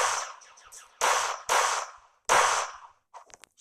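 Gunfire from a video game weapon: four sharp, loud shots at uneven intervals, each ringing off with a short tail, followed by a few faint clicks.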